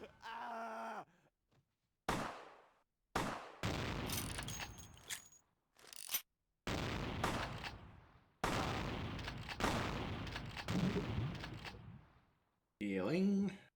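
Shotgun blasts in the video game Vampire: The Masquerade - Bloodlines, loud broadband booms in several separate bursts between gaps, with groaning voices at the start and end.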